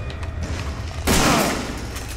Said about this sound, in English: That's how shotguns work.